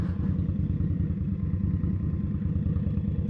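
Motorcycle riding through New York City traffic, its engine a steady low rumble that holds close and even throughout, with no voices over it.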